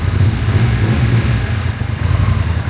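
A Honda NT 1100 motorcycle engine fires up and runs, a loud, close, rough low rumble with steady clattering pulses throughout.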